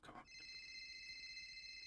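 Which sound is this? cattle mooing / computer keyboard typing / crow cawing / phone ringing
phone ringing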